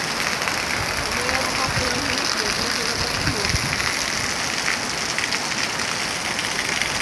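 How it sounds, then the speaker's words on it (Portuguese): Heavy rain falls steadily in Petrolina, in Pernambuco's sertão region of Brazil, making a dense, continuous hiss throughout. "Muita chuva."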